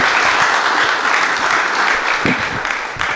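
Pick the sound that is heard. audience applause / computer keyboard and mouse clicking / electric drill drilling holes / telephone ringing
audience applause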